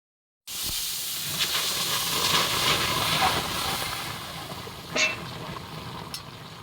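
Dried red chilli and black cumin (kalo jeere) hitting hot oil in a pan, a steady close hiss and sizzle that swells after the first crackle and keeps spitting with a couple of brief sharper pops.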